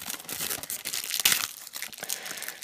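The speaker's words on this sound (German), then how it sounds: "Folien aufmachen ist eine Katastrophe." Plastic shrink-wrap film being peeled and crinkled off a Blu-ray case, a close, continuous crackling and tearing rustle with one sharper snap, no talking.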